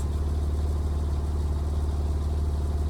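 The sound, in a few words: Porsche 911 997 Turbo 3.6 liter flat-six engine idling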